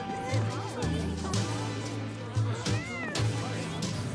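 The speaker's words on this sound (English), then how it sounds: "I hear the cat." A cat meows in the video game Tales of Xillia 2, several soft, rising-falling cries spread across a few seconds, sitting under game music and ambient sound.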